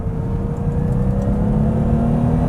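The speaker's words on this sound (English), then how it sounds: "We'll put it into sport mode and accelerate away." BMW 635 CSi Highline in sport mode accelerating away on the road, a steady loud engine drone and road noise heard from inside the car, even and sustained with no talk.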